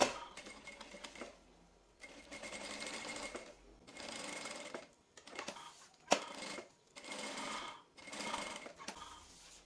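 Sewing machine stitching a clear plastic pocket onto a folder, running in four or five steady bursts of rapid mechanical stitching separated by short pauses, close and moderately loud with no talking.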